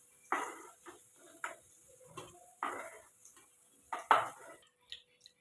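Golden-fried paneer is lifted from the pan onto a plate, heard as a series of separate light metallic clinks and scrapes of a utensil against pan and plate in a quiet kitchen.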